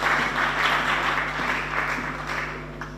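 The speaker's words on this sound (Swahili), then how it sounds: "Tujipigie basi makofi" An audience applauds at a golf tournament prize-giving ceremony, steady dense clapping throughout at moderate loudness, with a constant low electrical hum beneath.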